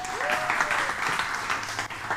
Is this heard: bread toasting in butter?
no